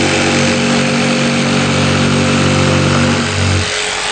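A power tool runs steadily while taking a partial cut, its loud motor drone holding even before easing down near the end.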